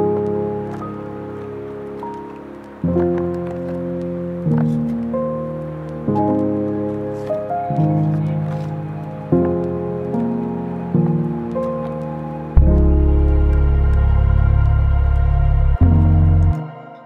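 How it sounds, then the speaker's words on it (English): Deep synth bass preset notes step through a repeating pattern with layered chords above, ending in a heavy sustained low tone that swells loud. "So when this track switched over to the bass, it sounded like this."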